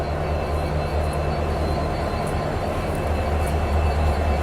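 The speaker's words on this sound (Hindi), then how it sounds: "ये डीजल लोकोमोटिव का साउंड एक बार और आपको करीब से सुनाता हूँ" Diesel locomotive idling up close, a loud steady low rumble with droning engine tones and a broad hiss that holds constant throughout.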